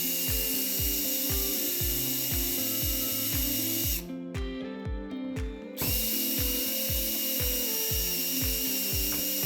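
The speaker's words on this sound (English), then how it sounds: "At that point, you can just get your drill." A power drill backing out the screws of a door lock mechanism, a continuous whirring drone with a rapid rhythmic ratcheting pulse, close and steady, briefly dropping in pitch and load midway before resuming.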